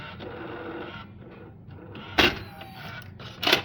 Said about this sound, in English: I'm gonna eject the cassette in here.